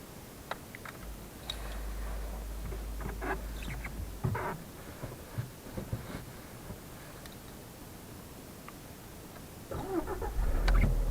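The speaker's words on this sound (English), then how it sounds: "So let's do a cold start." A 2013 Volkswagen Polo 1.4 FSI petrol engine cold-starting at minus nine degrees: a brief starter crank, then a steady idle hum with clicks and ticks, and a louder rev near the end.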